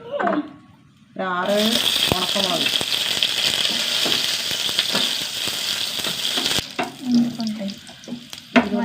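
Coconut oil sizzles and crackles loudly in a pan for several seconds, with a person talking before and after the frying noise.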